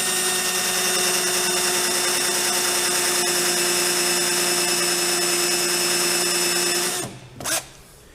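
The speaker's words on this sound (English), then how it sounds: "you have a drill bit inside that drills the head of the rivet" A drill bit inside a rivet removal tool bores into a rivet head on an IndyCar, giving a loud, steady high whine for about seven seconds before stopping abruptly, followed by a brief spin-up burst.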